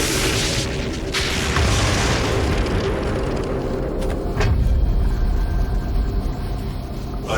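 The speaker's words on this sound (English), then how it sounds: "we can dip it in this magical, demonic lava energy and finally get the sword" Doom: the Crucible sword dipped into glowing demonic lava, a loud rumbling, roaring energy surge that holds steady throughout with a few sharp bursts on top.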